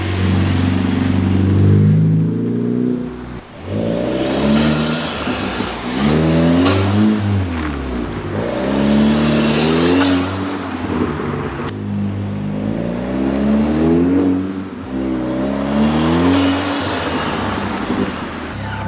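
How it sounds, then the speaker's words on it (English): An Audi A4 turbo fitted with an aftermarket intake accelerates through repeated roll-bys, its engine note rising in pitch in several loud, sweeping pulls with brief lifts between them, heard from outside the car. "I'm gonna do some roll-bys, some accelerations, and you'll really hear this intake"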